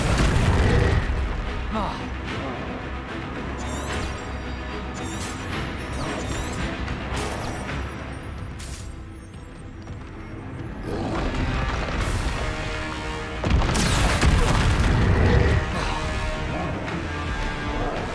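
Confringo blasting-spell explosions in the Hogwarts Legacy video game, several loud booming blasts and crashes set against a dense, continuous game soundscape with music and effects.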